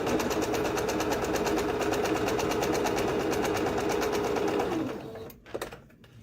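A sewing machine stitches down the seams of a hood with a steady, fast, close mechanical whir that stops after about five seconds, followed by a few faint handling clicks.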